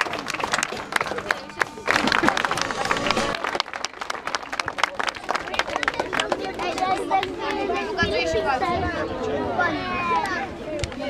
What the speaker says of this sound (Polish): Ale proszę trochę głośniejsze, brawa. Brawa dla Filipa.